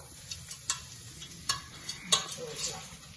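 Green chillies fry in oil for nati rava and semiya upma, with a soft, quiet sizzle broken by a few sharp clinks and scrapes of a stirring utensil, and no talking.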